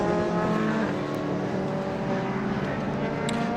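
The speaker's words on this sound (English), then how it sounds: "These modified saloon cars, they may be fast, but they can be fragile." Modified saloon race cars racing at Croft circuit, a dense continuous engine roar with revving, loud and steady throughout, the cars sounding near the trackside.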